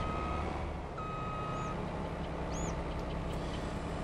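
Steady reversing beeps from a Claas Trion 750 harvester backing toward a truck in Farming Simulator 22, repeating over a constant engine drone, with brief mechanical whistles and a pneumatic hiss mixed in.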